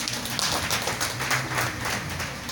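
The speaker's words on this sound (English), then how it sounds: "clap for Jesus" A church audience claps together in praise, a dense, lively patter of many hands that continues steadily without pause.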